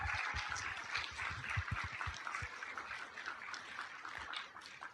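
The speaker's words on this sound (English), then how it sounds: "let's give a big round of applause to these 5 candidates for being here tonight" A small audience at a city candidates forum claps for the candidates, a steady patter of hands that is moderately close and gradually thins toward the end, with a few low thumps early on.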